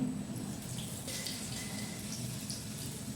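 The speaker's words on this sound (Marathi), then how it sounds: "तेल गरम झालेलं आहे. आता मी त्यामध्ये वडा टाकते आहे." Urad dal vadas sizzle gently in hot oil, a soft steady crackle and bubbling close by with no voices.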